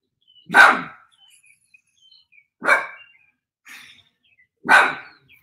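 Dogs barking in a house, three loud, sharp single barks spaced about two seconds apart, with a fainter yip between them and quiet gaps otherwise; no talk.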